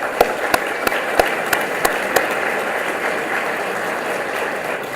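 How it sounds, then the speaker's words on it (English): Applause for donors at an evening reception, a steady wash of crowd clapping with several sharper nearby claps standing out in the first couple of seconds, then a softer continuous patter to the end. "Please join me in giving them a round of applause."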